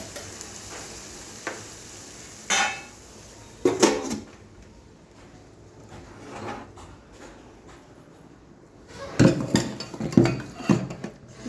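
Scattered clinks and knocks of dishes and utensils as rice is served in a home kitchen, a few sharp clatters early on and a busier cluster of clanks near the end, over a low background hiss.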